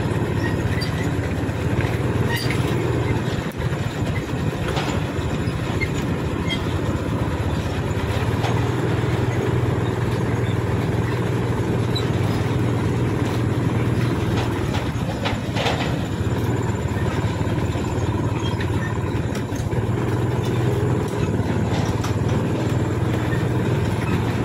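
A sugar cane lorry train at Semboro sugar mill passes at night with a continuous rumbling roll of wagons, a low engine drone and scattered metallic clicks and squeals from the rails, steady and close throughout.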